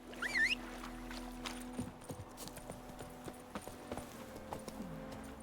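Horse hooves clip-clop in The Witcher 3, a steady run of distinct thuds at close range under a constant low game hum, with a brief chirp near the start.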